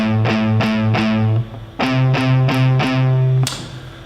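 Distorted electric guitar plays palm-muted power chords in short, chugging stabs, two quick groups of four separated by a brief pause, loud and close.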